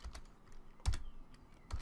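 A command being typed on a computer keyboard for a Minecraft Bukkit server, a few sparse, close keystrokes with short pauses between them in a quiet room.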